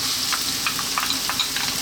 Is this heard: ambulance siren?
no